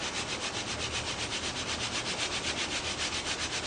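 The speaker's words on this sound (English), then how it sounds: "And now we're going to screed it." Wet concrete countertop being screeded to strip off excess, with steady rhythmic back-and-forth scraping and rubbing, close and continuous throughout.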